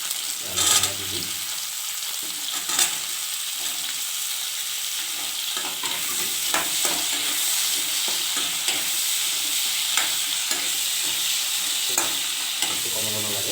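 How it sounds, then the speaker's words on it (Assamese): Potato pieces fry in a spice paste in a pan, with a steady sizzle throughout and repeated scraping stirs of a spoon or spatula. No one speaks. "মই আলুটো টুকুৰাকৈ কাটি লৈছোঁ, আলুখিনি দি দিম।"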